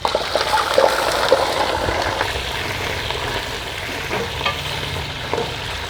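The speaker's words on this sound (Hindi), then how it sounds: "तो गोश्त को अच्छी तरह से फ्राई करना है ताकि इसमें चर्स जैसा जायका आ जाए" Around 1.5 kg of chicken fries in ghee on high heat in a Peshawar-style charsi karahi. It makes a loud, close, wet sizzle with vigorous stirring, scraping and small splatters throughout.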